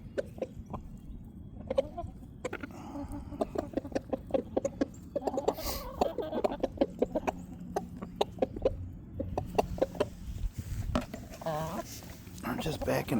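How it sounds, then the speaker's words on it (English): Chickens and quail cluck and peck at mealworms in a backyard pen, with busy pecking and clucking throughout. A person talks over them at close range. "So don't get mad, Dio, when they start pecking on you."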